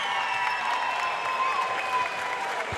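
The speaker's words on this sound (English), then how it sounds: "Give a big round of applause for both fighters and Ruben Cazales" Arena crowd applauds the boxers after a pro bout at Night of Champions IV, a steady wash of clapping and crowd noise, moderately loud and continuous, with faint tonal ringing in the background.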